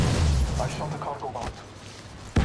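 Gunfire in the video game Apex Legends sounds as several sharp weapon shots and a booming burst at the start, followed by fainter game sounds and another abrupt shot at the end.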